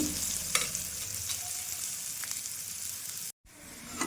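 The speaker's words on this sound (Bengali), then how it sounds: "পেঁয়াজটা আমি একটু লাল লাল করে ভেজে নেব।" Chopped onions fry in hot oil until reddish, a continuous close sizzle with a few faint stirring clicks and a brief cut-out near the end.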